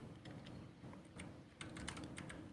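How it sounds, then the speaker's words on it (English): Keys clatter on a computer keyboard in quick irregular bursts, close and fairly quiet, with no voice over them. "I'm typing like butt today"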